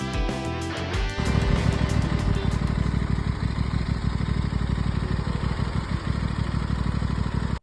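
A Moto Guzzi Stelvio litre-class V-twin touring enduro motorcycle starts with a brief crank, then settles into a loud, close, steady idle with an even pulsing rhythm that continues alone until it cuts off at the end.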